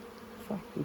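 Honey bees buzzing in an open beehive during an inspection, a soft steady hum that swells briefly as individual bees pass close.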